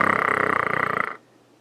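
A voice imitates the Predator's snarl with a single rough, guttural growl lasting about a second, rattling and close, then cutting off into quiet.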